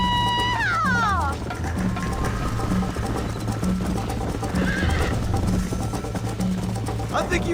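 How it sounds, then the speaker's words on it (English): Horse hooves clip-clop in a steady galloping rhythm, with a loud neigh near the start, set against music and a voice or two in the video game Red Dead Redemption on PS5. "I think you chose the wrong horse, Miss McFarland."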